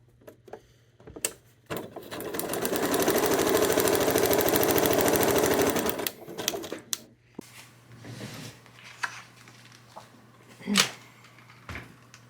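A sewing machine stitches quilt pieces in a steady whirring run of about four seconds, close and fairly loud, bracketed by small clicks, handling noises and fabric shuffles.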